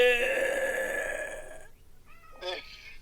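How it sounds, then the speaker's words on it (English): A cat lets out a long, drawn-out meow followed by two shorter meows, close and clear. "Did you hear Callie meowing?"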